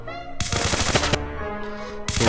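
Gunfire from a mobile shooter game, Call of Duty Mobile, as targets shaped like a turtle and a rabbit are shot at an Easter circus event: a close, loud burst of rapid shots, a brief lull, then another burst.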